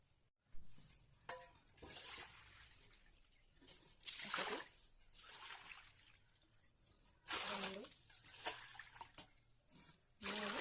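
Water splashes and trickles in a few separate bursts, poured cup by cup into a vessel for cooking semolina, with quiet gaps between them.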